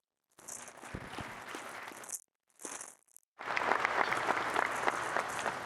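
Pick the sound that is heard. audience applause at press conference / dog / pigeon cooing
audience applause at press conference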